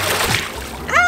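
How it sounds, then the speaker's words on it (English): Water splashes loudly in a swimming pool during a child's swim lesson, close and brief, with a voice briefly audible. "you're splashing me"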